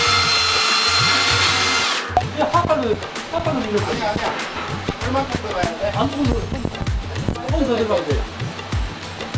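A power drill bores holes for TS bolts through a steel H-beam: a steady loud whine at first, then repeated bursts of drilling with rising and falling pitch and clattering, close and dominant throughout.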